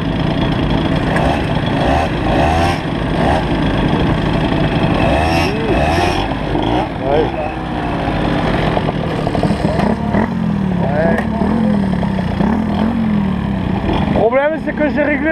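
A motorbike engine with an over-rich carburetor, tuned in deep winter, runs rough and struggles, sputtering and revving unevenly up close while people talk over it.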